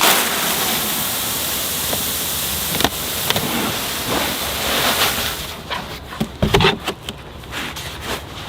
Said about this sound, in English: And you can pour this into here now.